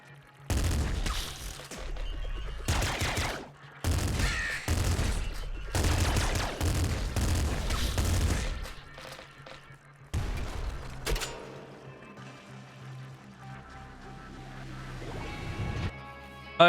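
Wave gun firing in the video game Nuclear Throne: loud bursts of rapid shots in clusters over the first ten seconds, then one more burst, before fading to quiet game ambience.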